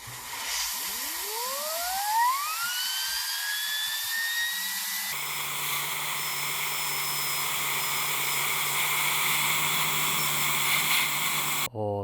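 A Razer Pro Click Mini mouse scroll wheel in free-spin mode whirs, rising rapidly in pitch into a steady high-pitched whine, holding for several seconds before stopping abruptly.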